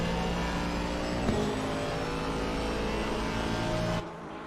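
Race car engines droning steadily during a sim racing endurance event at Suzuka, one car pairing an Aston and a Porsche, with a constant dense engine roar that drops abruptly near the end.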